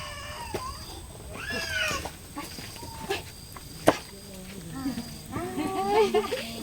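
A domestic cat meows in a rural forest-village home, with rising and falling cries heard several times amid people talking nearby and faint household clatter.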